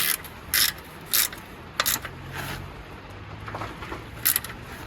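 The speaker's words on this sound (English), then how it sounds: "And I shall grab my ratchet with the 14mm socket, and we just want to nip it up." A hand ratchet fitted with a 14mm socket nips up a fastener while servicing a Citroen C1, giving several short, sharp clicking bursts in an irregular rhythm, close and fairly loud, with no talking.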